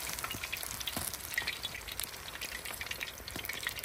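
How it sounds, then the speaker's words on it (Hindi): Large Singhara fish sizzling and crackling steadily in hot oil in a pan at a village cooking setup, a dense continuous fry with small pops and occasional stirring clatter throughout, close and fairly loud, no talk. "मछली को अच्छी तरह फ्राई करेंगे"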